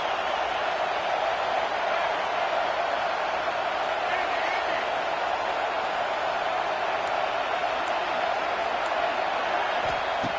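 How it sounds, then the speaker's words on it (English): Stadium crowd at an Ohio State versus Michigan college football game, a dense, steady roar of many voices that holds at the same loud level throughout. "Listen to the crowd energy here in the early going. This is a tough environment for visitors."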